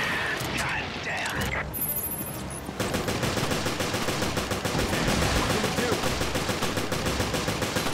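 Rapid automatic gunfire aimed at a parasite creature in Resident Evil Revelations, loud and continuous bursts of shots after a brief quieter stretch with game sounds.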